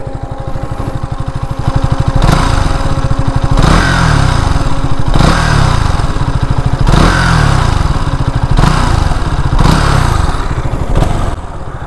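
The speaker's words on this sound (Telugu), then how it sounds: "ఇప్పుడు మనకి ఇంజన్ అయితే ఆన్ అయింది." A 2021 KTM Duke 200 motorcycle engine running up close, loud and steady with a rhythmic throb that swells and eases in repeated blips of the throttle, heard alone without talk.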